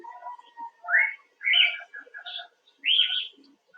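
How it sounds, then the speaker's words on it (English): Wild pileated woodpecker calling outdoors, a series of loud, clear whistled phrases in a few bursts spaced over several seconds, fairly close and alone without talk. "It's a pileated woodpecker."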